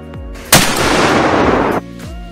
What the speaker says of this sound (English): when the bullet leaves a gun, it pushes the gun backwards.